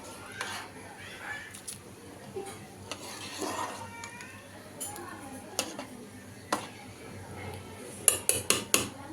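Egg biryani with mint and gongura is stirred in a cooking pot, with scattered scrapes and clinks of a utensil against metal, a few sharp taps near the end, and a faint meow in the background.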